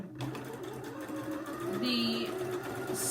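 Sewing machine running a slow stretch stitch, a steady mechanical whir with a low motor hum and a brief higher tonal shift midway, close and moderately loud, no speech over it.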